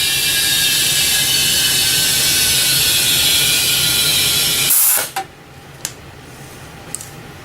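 Compressed air hisses steadily and loudly into a bicycle inner tube, held with pliers at the valve stem, for about five seconds before cutting off abruptly, leaving near silence with a few faint clicks.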